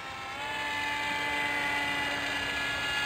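A small RC wing airplane's electric motor whines steadily and fairly loud throughout while coming in to land, its tone slightly rising, with no talk.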